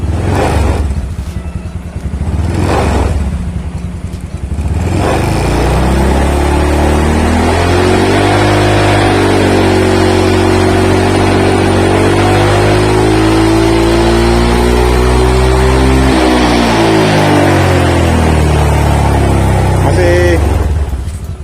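Honda Vario 150 scooter with an upgraded CVT pulley, ridden at night, its engine climbing in a steady rising rev then easing off, loud and close throughout, with wind rush and a few voice sounds early on.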